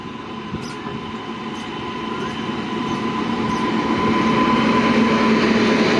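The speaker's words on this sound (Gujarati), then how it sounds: "જો મિત્રો લોકલની એન્ટ્રી થઈ ગઈ છે" A local passenger train rumbles steadily nearby, growing gradually louder as it rolls in, with a faint tonal hum and occasional metallic ticks.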